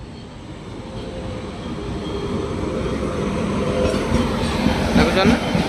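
A goods train rolls past on a rail line, a steady broad rumble of wagons that builds slightly louder over a few seconds, with faint voices in the background.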